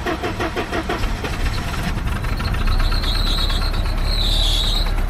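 A Mercedes W124 230E engine cranks with rapid chugging, then catches and settles into a loud, steady idle with a faint high squeal from a slipping V-belt.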